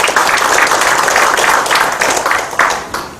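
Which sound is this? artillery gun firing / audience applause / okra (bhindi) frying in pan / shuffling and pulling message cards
audience applause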